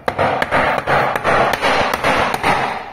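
A hammer strikes wood at a farm property in a steady series of about eight sharp, loud blows, each followed by a short ringing, close up and evenly spaced.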